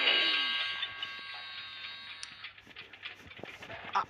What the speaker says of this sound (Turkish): adam tıraş makinesi ses çıkartan silah bulmuş